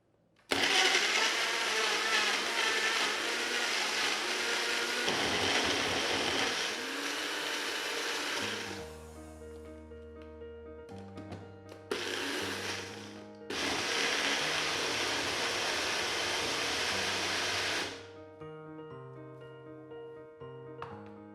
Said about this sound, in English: Blend all the ingredients up into a smooth paste.